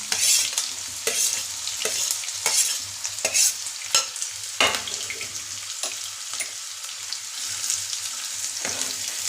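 Thinly sliced onions and green chillies fry in a pan with a bright, close sizzle, broken by repeated scraping stirs of a spatula at an uneven rhythm, with no speech.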